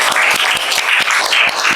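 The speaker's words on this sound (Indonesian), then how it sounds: "kasih tepuk tangan dulu dong untuk Afiat" A classroom audience claps for a student about to retell a children's book, a steady, dense patter of many hands close by with no talk over it.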